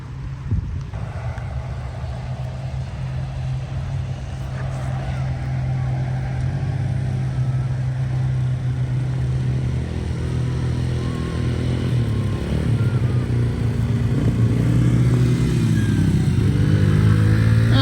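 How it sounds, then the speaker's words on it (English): A tractor engine rumbles steadily in an outdoor garden setting, a low continuous drone that grows slightly louder and rougher toward the end as it runs close by. "I'm going to go get that tractor."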